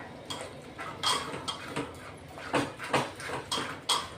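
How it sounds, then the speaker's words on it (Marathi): Cooked dal, pressure-cooked for three to four whistles, is mashed in a pot with a utensil, giving soft repeated knocks and scrapes at an uneven rhythm, close and fairly quiet. "हे बघा अशी घोटून घ्यायची डाळ."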